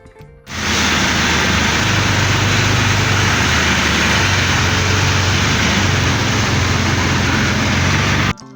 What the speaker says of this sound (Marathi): तर तुम्ही बघू शकता किती जोरात पाऊस चालू आहे